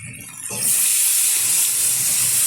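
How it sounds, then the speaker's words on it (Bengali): Water poured into a hot pan of well-fried masala for a prawn curry with potato and pointed gourd, bursting into a loud, steady steaming hiss after a brief quieter moment, with no talking. "খুব ভালোভাবে কষানো হয়ে গেছে দিয়ে দিচ্ছি পরিমাণ মতো জল"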